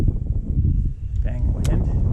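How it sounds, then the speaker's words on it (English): Wind buffets the microphone outdoors while fishing after heavy rain, a continuous loud low rumble dominating the short stretch, with a faint voice briefly audible underneath. "Dang wind."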